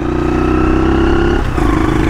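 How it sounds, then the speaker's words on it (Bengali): A motorcycle engine, on a muddy rural village road, runs steadily up close, a low throbbing drone that wavers briefly near the end, loud and continuous with no voices. "সাউন্ড শুনতে পাচ্ছেন আপনারা বাইকের, সেই লেভেলের সাউন্ড ব্রো।"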